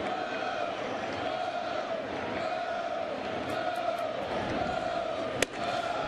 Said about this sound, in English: Crowd is quite boisterous tonight.